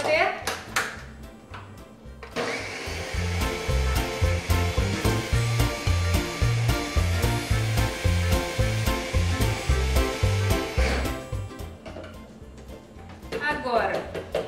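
An electric mixer whirs through corn cake batter made without wheat flour, with sweetener and coconut oil, a loud close buzzing drone that pulses rhythmically for about ten seconds before stopping; a voice speaks around it.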